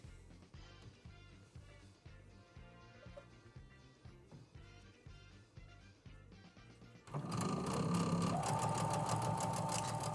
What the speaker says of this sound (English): Just sewing up these rows so we can see what it's going to look like now.